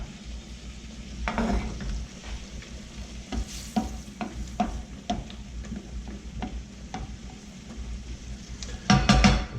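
Sherry cooking down in a hot pan for Steak Diane, a steady close sizzle with repeated spoon stirs and scrapes against the pan and a louder clatter near the end.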